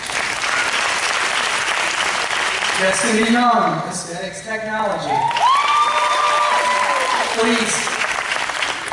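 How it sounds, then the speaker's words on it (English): Steady applause from a graduation crowd at Miller-Motte Technical College in Conway, July 2018, runs throughout as a voice reads out a graduate's name and program over the clapping. "big round of applause for these students"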